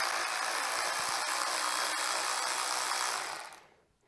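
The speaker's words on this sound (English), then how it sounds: "There is one bolt on the back side here that we have to take off." A bolt being removed from the gas tank of a Yamaha YZ 250FX dirt bike with a power tool: a steady close buzzing whir for about three seconds, then winding down and stopping.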